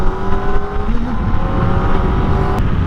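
A 2025 Kawasaki Ninja ZX-4RR 400cc motorcycle is ridden at speed, its high-pitched engine whine loud and close, with a quick gear shift causing a brief pitch dip before the tone steadies again.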